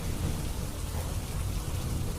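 Heavy monsoon rain pours steadily during a night storm in Junagadh, Gujarat, with a dense continuous wash and deep rumbling thunder underneath, loud and unbroken throughout.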